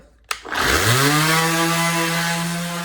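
A power sander with a 220 grit foam pad spins up on a car's front race bumper, starting with a sharp click and rising into a loud, steady whine held close up.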